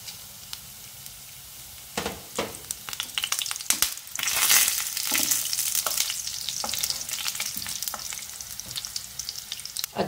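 Three whole red chillies and a teaspoon of cumin seeds crackle in hot oil in a pan for a dhaba-style chana dal tadka, the sizzle swelling loud and bright after a few sharp spattering pops, steady to the end with no talking.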